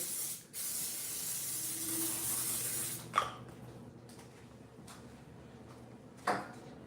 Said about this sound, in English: Lightly grease and spray the pan.